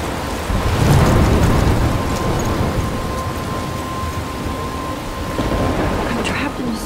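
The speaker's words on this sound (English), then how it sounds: "I'm trapped in a storm?" A thunderstorm with rain pouring steadily throughout, a deep rumble of thunder swelling near the start and fading, with a faint steady tone running underneath the wash of rain.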